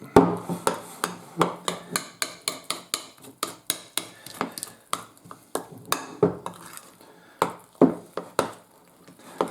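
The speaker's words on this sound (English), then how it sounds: "give it a good old stir, which is the equivalent of a knead" A spoon stirs a malt loaf mixture in a bowl, giving repeated close knocks and scrapes against the bowl in a quick, uneven rhythm, with no voices.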